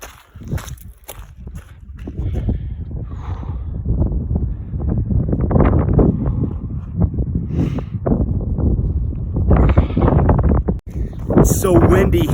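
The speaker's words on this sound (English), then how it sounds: "It's so windy" Strong gusts roar against the microphone at Glacier while a person talks over them, the rumble swelling and easing throughout.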